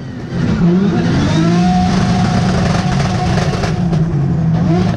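A race car engine revs loudly and pulls away, the engine note rising and sustained close by for several seconds, dominating the scene with no clear speech over it.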